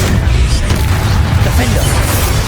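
A Bombarda blasting spell exploding in the Hogwarts Legacy video game, a loud deep boom and rumble that fills the whole stretch, dense and heavy, with no talk over it.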